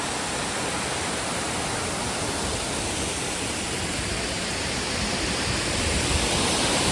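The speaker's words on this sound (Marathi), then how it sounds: "स्टेप बाय स्टेप असा पडतोय धबधबा आणि खूप सुंदर दिसतोय" A tiered waterfall cascading step by step roars in a constant, full, rushing wash of water that stays loud and unbroken throughout.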